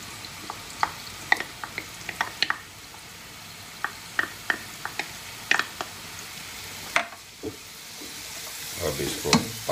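Garlic and ginger paste fries slowly in oil over very low heat for Pathani namkeen gosht, a soft steady sizzle with regular sharp spoon taps and scrapes against the pot and no speech.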